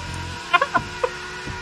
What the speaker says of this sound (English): Bird noise and shit.